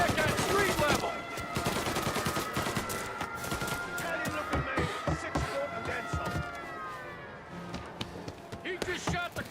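Rapid bursts of gunfire in a police rooftop chase in Mafia Definitive Edition, dense shots and automatic fire with a wailing siren underneath. Voices call out over the shooting.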